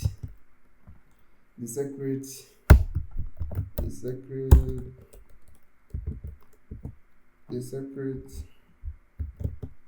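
Keys clatter on a computer keyboard while a font is typed in during thumbnail design, with irregular bursts of clicks mixed in among a person talking nearby.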